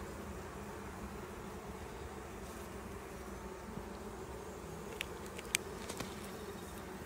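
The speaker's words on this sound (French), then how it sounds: "Les abeilles ont l'air très gentilles ce matin là" Honey bees droning steadily around opened hive frames during an afternoon hive inspection, a continuous low buzz throughout with a few faint knocks near the end and no talking.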